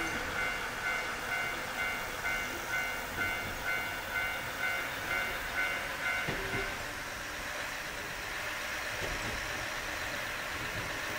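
A train in the video game Nostalgic Train starts to move after its doors close, giving a steady loud rumble with a rhythmic, repeating clack that fades into a smoother hum; no voices are heard.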